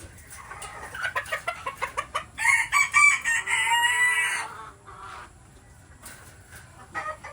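A Goldenboy Sweater rooster crows loudly nearby amid rapid clucking from chickens in a breeding pen, followed by quieter scattered clucks.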